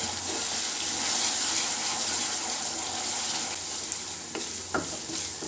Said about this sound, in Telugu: 1 టీ స్పూన్ అల్లం వెల్లుల్లి పేస్ట్ వేసుకోవాలి. పచ్చివాసన పోయేంత వరకు బాగా ఫ్రై చేసుకోవాలి.